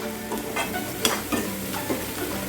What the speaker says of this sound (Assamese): মই এতিয়া লো ফ্লেমতে ফ্ৰাই কৰি আছোঁ